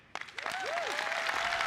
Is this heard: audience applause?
yes